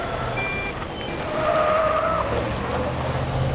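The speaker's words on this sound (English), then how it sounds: "Big rev, clutching into gear, that's it." A truck engine revs hard and then drops as the clutch takes it into gear during a driving lesson in an Australian truck yard: a loud, steady, close engine roar with a rising surge midway.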